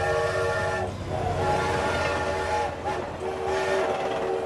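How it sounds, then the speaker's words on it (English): A morning train approaches along railroad tracks beside a hayfield: a steady rolling rumble with sustained horn tones sounding over it, loud and continuous with no talking. "he heard the approaching morning train in the distance"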